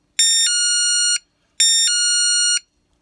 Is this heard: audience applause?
no